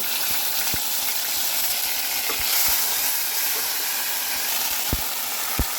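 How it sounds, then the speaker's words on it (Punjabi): Cumin and ginger-garlic paste hit hot mustard oil in a clay pot, giving a steady close sizzle and hiss with occasional sharp pops and taps throughout, no voices over it. "ਤੇਲ ਆਪਣਾ ਹੋ ਗਿਆ ਜੀ ਗਰਮ ਪਾਉਨੇ ਥੋੜਾ ਜਿਹਾ ਜੀਰਾ ਅਦਰਕ ਲਸਣ ਦਾ ਪੇਸਟ"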